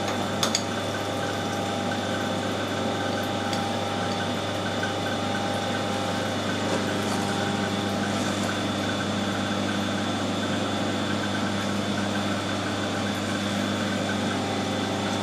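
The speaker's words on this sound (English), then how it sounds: "This should be the last cut on the other side of the crank as well." A lathe makes a low-feed finish cut on a crankshaft, producing a steady continuous machine drone and hum throughout with no pauses.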